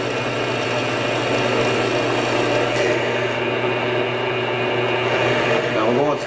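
A power tool grinds steadily through a maple electric guitar headstock, a continuous whirring cut that holds its pitch for several seconds before easing off near the end.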